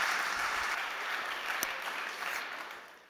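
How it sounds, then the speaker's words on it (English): An audience at a startup competition bursts into sustained applause, broad and steady, then slowly tapering toward the end. "Big applause Thank to Michael."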